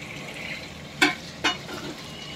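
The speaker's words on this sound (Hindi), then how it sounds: "अभी इसमें आलू डाल के फ्राई करा हुआ 1 मिनट पकाएंगे इसको।" Potatoes frying with cooked chicken in a pot for chicken yakhni pulao: a steady soft sizzle with two sharp scraping stir strokes close by, no talk.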